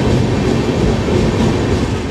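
The Kamlapati Jan Shatabdi Express runs at speed with a loud, close, continuous rumble and a rhythmic clickety-clack of wheels on rails, no voices heard.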